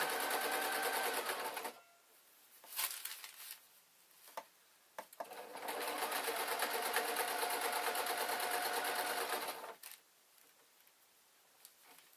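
Domestic sewing machine stitching a Downton Abbey style dress, running in two sustained bursts of rapid mechanical whirring separated by a pause with small clicks and handling sounds, close and steady.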